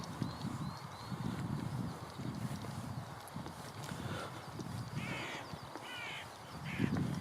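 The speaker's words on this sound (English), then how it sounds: "Looks a crow." Crows caw in short rasping bursts outdoors in early spring, close and fairly clear, over a steady background of rustling and low hoof-like clopping.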